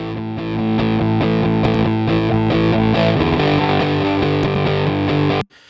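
Distorted rock electric guitar with EQ and compression applied, a steady chugging riff of sustained, thick chords played alone at even loudness for about five seconds before stopping abruptly.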